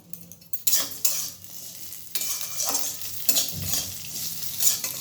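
Vermicelli fries in a pan while being stirred, producing bursts of sizzle with scraping strokes and metal utensil clinks, fairly close and irregular. No talking.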